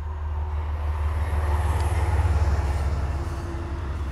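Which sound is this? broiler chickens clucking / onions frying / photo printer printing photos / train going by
train going by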